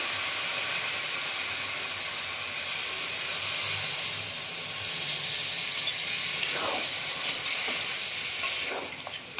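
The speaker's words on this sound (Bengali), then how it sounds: "এরপরে আমি বাকি যে কাঁঠালের জলটা ছিল দিলাম, আর একটু জল দিতে লাগবে।" Jackfruit water is poured into a hot pan for an unripe jackfruit and prawn dish. A loud steamy sizzle and hiss fills the pan, with a few stirring scrapes.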